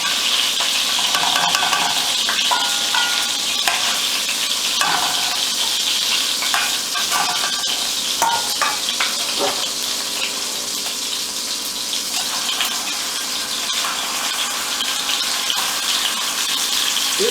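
Salisbury steak patties fry in a pan with a loud, steady, close sizzle that crackles throughout and has no talk over it.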